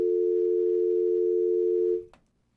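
A loud, steady telephone dial tone on a radio call-in line after a caller drops, holding evenly for about two seconds before cutting off with a brief click, then near silence.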